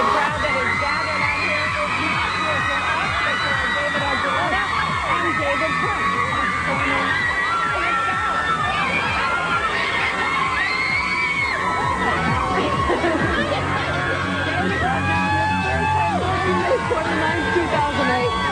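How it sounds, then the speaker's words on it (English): An enormous crowd on a Midtown Manhattan plaza cheers and shouts continuously, with screams and a constant roar of babble, loud and dense throughout. "Enormous crowd out on the plaza"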